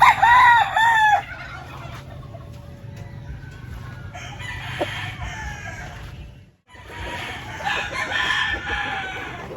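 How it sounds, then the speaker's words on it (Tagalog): A Blue Orpington rooster crows loudly and nearby, followed by softer clucking and more crowing from other chickens over a steady outdoor hum. "ito naman yung ating Orpington Blue na manok, heritage breed"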